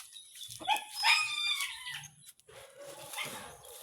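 A dog barks several times at moderate distance, sharp yelps over a hissy outdoor background with chickens and insects faintly around.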